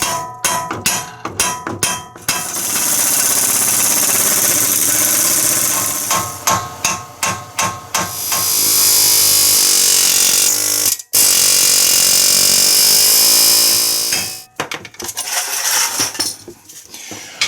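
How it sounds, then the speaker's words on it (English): A battery impact wrench hammers a bolt through the steering knuckle of a 2010 Chevy Equinox during a front wheel bearing job, in loud rattling bursts: short stabs, then long sustained runs, with brief pauses between. "we're going to hit that with the battery impact first"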